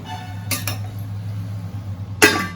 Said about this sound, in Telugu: ఒక్క 2 నిమిషాలు మూత పెట్టేసి